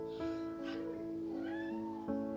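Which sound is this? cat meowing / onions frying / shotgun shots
cat meowing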